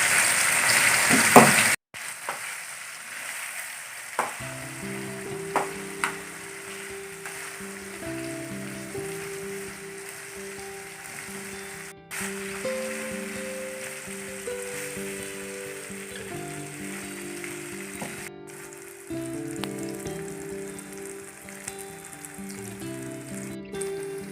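Chicken pieces sizzle and crackle steadily in hot oil, a continuous frying hiss with light background music playing throughout.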